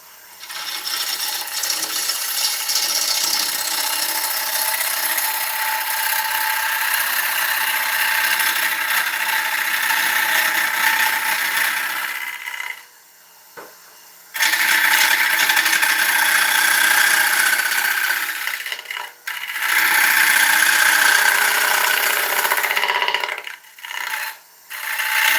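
Light cuts on an ash bowl turning on a wood lathe make a continuous rasping, ratchety scrape, broken by a few short pauses where the tool lifts off, then resumes at steady volume.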